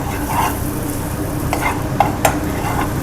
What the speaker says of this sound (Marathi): दोन मिनटं जे आपण तिखट टाकलेले आहेत त्याच्यासोबत एकदा याला छान असं परतून घेऊया